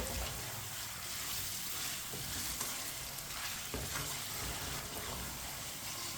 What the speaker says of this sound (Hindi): अब चिकन को 4-5 मिनट के लिए हम पका लेंगे, इसी तरह चम्मच चलाते हुए।